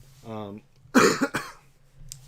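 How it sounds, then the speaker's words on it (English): Two sharp coughs come close together near a microphone during a casual charity livestream, after a short voiced sound from a person. "you're going to hear us cough a few times"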